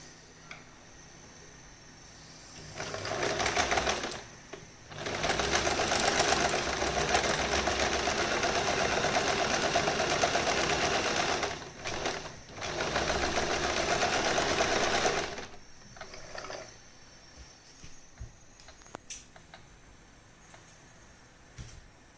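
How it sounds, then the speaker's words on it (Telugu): Sewing machine stitching the fabric edges of a homemade scrunchie, running in two long steady bursts of close, whirring motor and needle clatter separated by a brief pause, with quieter handling sounds before and after. "ఇప్పుడు దీన్ని ఈ రెండింటిని స్టిచ్ చేసేద్దాం ముందు."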